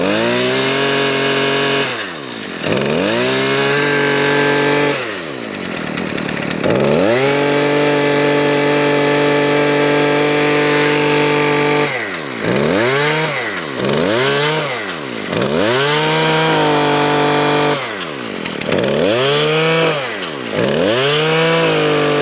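Sears Craftsman gas weed wacker engine, started cold, revved repeatedly from a low idle to a high scream in a series of throttle bursts, loud and close with no talking.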